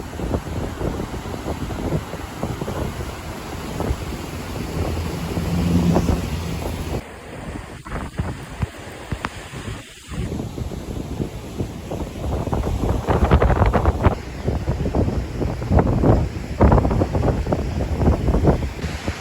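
Ocean waves wash against the shore at close range on Madeira's coast, a steady roar of surf heavily buffeted by gusting wind across the microphone, with no voices.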